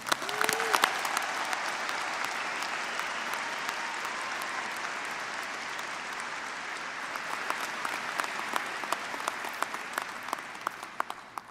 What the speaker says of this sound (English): would the audience join me in applauding the doctoral candidates?